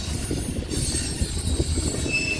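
An eastbound manifest freight train rolls steadily past in Fremont, Nebraska, with low rumbling, rhythmic wheel clatter and occasional faint squeals, heard nearby without voices.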